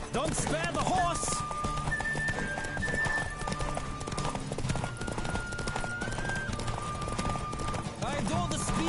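Galloping racehorse in The Witcher 3, with loud, fast clip-clop hoofbeats pounding without pause, a whinny or two, music with sustained tones and intermittent shouting voices.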